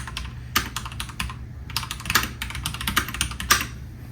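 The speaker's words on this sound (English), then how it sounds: "when I go to type pretty quickly, the way I've adapted is pretty much one finger typing with my left hand and then regular typing with the right" Rapid bursts of computer keyboard typing, one-finger pecking with the left hand alongside regular right-hand typing, close and clear in uneven clusters with short pauses between.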